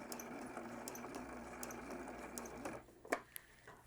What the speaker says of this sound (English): I finished sewing all the way around the keychain